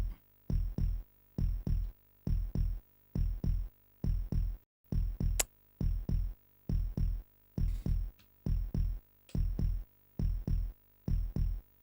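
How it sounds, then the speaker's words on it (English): A video game heartbeat effect thumps as paired lub-dub beats at a steady, fairly quick rhythm, loud and alone, with about fifteen double beats. "See how faster the heartbeat is getting?"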